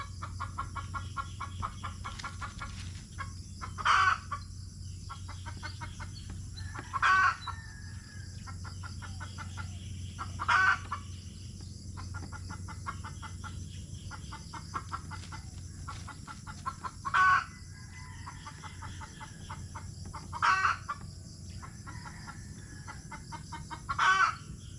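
Chickens clucking steadily on a farm, with loud crows or squawks bursting out roughly every three seconds over a low constant hum.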